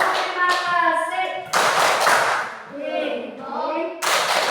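A fifth-grade class performs a rhythmic thank-you clap, children chanting in unison between sharp bursts of group clapping, the claps and chanting alternating in a patterned sequence.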